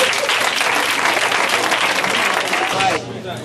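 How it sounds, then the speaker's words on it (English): Audience at a spoken word poetry event claps loudly and steadily for about three seconds, then the applause cuts off abruptly into near quiet. "Everybody clap your hands."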